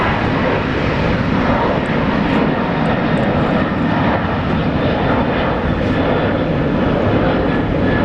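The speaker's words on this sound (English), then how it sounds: "Singapore 256, runway 19 right, cleared for takeoff." Singapore Airlines Airbus A330 taking off from runway 19 right at Brisbane International Airport, a loud, steady, broadband jet engine roar sustained throughout without any talk.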